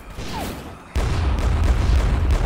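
A grenade goes off in the online shooter XSHOT, an abrupt close blast that cuts in suddenly and then leaves a loud, rumbling, crackling wash of noise for the rest of the moment.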